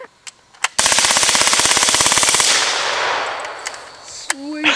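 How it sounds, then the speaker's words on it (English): A fully automatic machine gun fires one long, fast burst of sharp, evenly spaced shots lasting under two seconds, loud and close, with a rolling echo trailing off afterward and a few isolated clicks and knocks around it. "I got to shoot an automatic machine gun."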